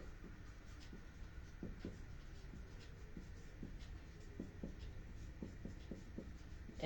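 A pen writes out a math function on paper, making soft, close scratching strokes and taps in an irregular rhythm over quiet room noise.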